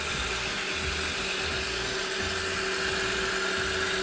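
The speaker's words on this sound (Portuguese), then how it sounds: "O nosso recheio, ele vai ser feito na batedeira." An electric stand mixer runs continuously at steady speed, beating chilled cream cheese for a cake filling, a loud whirring mechanical drone with a rhythmic gear rattle and no voices.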